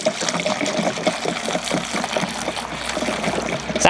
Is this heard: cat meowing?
no